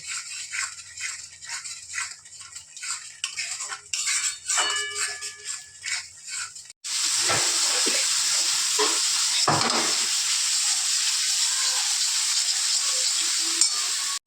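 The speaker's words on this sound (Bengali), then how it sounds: "দেখো, ভালো করে কষে নিচ্ছি। যতক্ষণ না এটা তেলটা ছেড়ে আসছে ততক্ষণ কষে নিতে হবে।" Masala for pabda fish curry sautéing in oil in a pan, a dense steady sizzle that jumps louder halfway through and then holds, broken by occasional spoon scrapes, close and loud with no talking.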